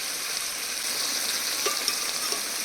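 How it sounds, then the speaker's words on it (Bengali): Potatoes sizzling in a pan with yogurt and cashew paste, a steady close-up frying hiss with a few soft stirring clicks, no voices. "আলুগুলো দু তিন মিনিট কষিয়ে নিয়েছি এবার দিয়ে দেবো টক দই কাজু বাদাম বাটা দিয়ে দেবো"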